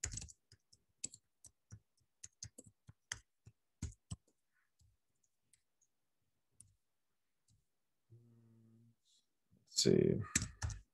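Quiet, irregular clicks of typing on a computer keyboard come in short runs with pauses, a brief voice speaks, and a louder rustle follows near the end.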